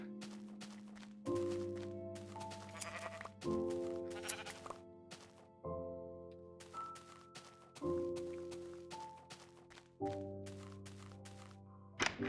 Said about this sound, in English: there's so many sheep.